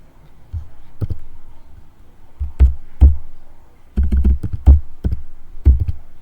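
Computer keyboard typing and mouse clicking, heard alone as sharp irregular taps in short bursts, with a few quick clusters of keystrokes.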